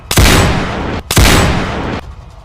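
Two loud, close gunshots ring out about a second apart in an animated French Gacha Life series, each a sharp blast trailing into a brief roar.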